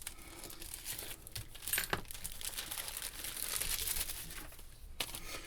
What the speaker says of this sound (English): So we're going to get the decoder out of our packaging here.